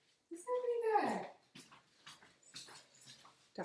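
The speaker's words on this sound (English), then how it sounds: "Daft dog." A dog lets out a drawn, wavering whimper with rising and falling yips, then short fainter whines follow at close range in a home kitchen.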